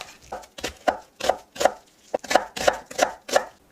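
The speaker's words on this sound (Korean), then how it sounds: "양파 1개도 썰어주세요." Sharp knife chops slice an onion on a cutting board in a steady rhythm, about a dozen crisp cuts, close and clear with no talking.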